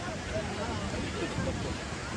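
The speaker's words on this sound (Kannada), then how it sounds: "ಗೈಸ್ ನೀರು ಇಲ್ಲಿವರೆಗೂ ಹಾರ್ತಾ ಇದೆ." Water splashes and churns at the KRS backwaters, a steady broadband wash with wind noise and faint voices in the background.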